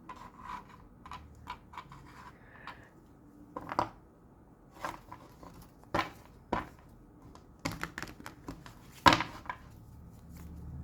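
Tarot cards shuffled by hand, a soft papery riffling and rubbing with sharp card taps and snaps scattered irregularly, close and fairly quiet with no talk.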